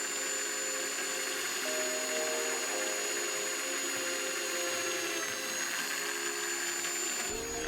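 A power drill runs steadily while boring holes in a metal pipe with a 2.5 mm bit, a continuous whining motor tone with a slight pitch shift and a brief dip at the end.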